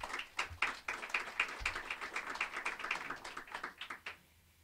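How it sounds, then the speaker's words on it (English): A small audience applauds the county budget director and his team at a press conference, a fairly close, quick patter of clapping that thins out and stops after about four seconds. "If we can give Stanley a round of applause."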